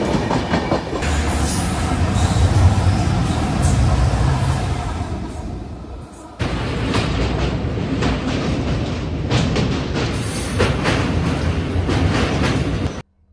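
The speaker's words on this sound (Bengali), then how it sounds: "এখন ক্রস করছি আগরতলা কলকাতা সাপ্তাহিক গরিব রথ এক্সপ্রেস" The Agartala-Kolkata weekly Garib Rath Express passing closely alongside on the rails, a loud continuous rush of wheels and clattering cars with a brief dip midway and a sudden end.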